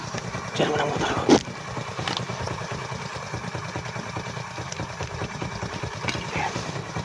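A motorcycle engine idles in a steady, low, continuous rumble throughout, with a brief louder knock near the start and a faint background voice.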